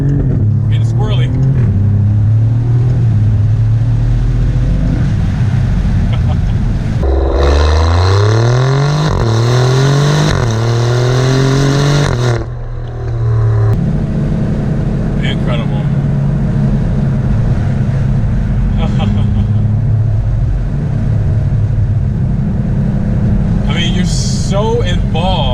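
An Alfa Romeo Giulia Quadrifoglio engine revs loudly from inside the cabin, rising and falling with sharp paddle-shift downshifts and throttle blips, while someone talks over it.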